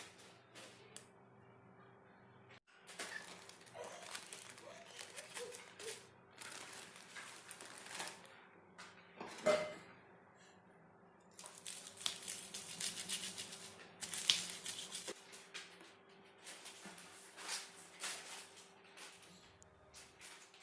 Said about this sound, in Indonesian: Kemudian kita mengulek cabenya